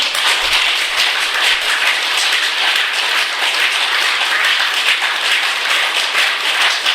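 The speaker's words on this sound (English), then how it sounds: "Let me see how good you are in clapping" Vice principals at a training session in Goa clap together on command, producing a loud, dense and continuous wash of hand claps with no speech over it.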